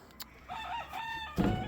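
A game rooster crows nearby, a single drawn-out call with some clucking from game hens on a backyard chicken yard.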